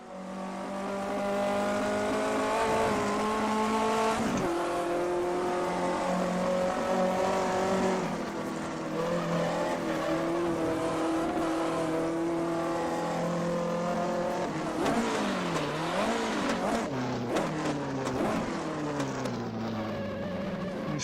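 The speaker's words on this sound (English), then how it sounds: "Nice downshift." A 1958 Formula 1 race car engine at Spa in a racing game, a loud, steady engine note that drops sharply on downshifts, rises again under acceleration, and shifts repeatedly near the end, with no voices.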